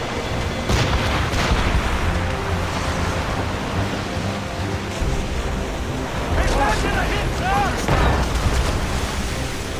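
Explosions and artillery fire in the Assassin's Creed Rogue video game at sea, a dense, loud rumble of blasts and surging waves with voices shouting over the battle.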